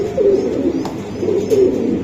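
Racing pigeons of a Pakistani breed coo twice in soft, low, throaty phrases, close by, with faint background noise and no talk.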